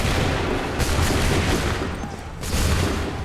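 Musket volleys roar in Assassin's Creed III, a dense, loud crackle of gunfire that swells, dips briefly and surges again as another volley follows.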